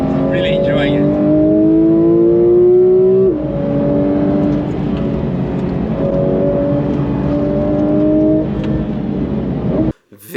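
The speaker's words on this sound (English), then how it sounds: "this year we had Phil from France in the GT3 RS" A Porsche GT3 RS drives on the Nürburgring track, its engine droning loud and close in rising and falling pitch sweeps as it accelerates and shifts, with a clatter at the very end.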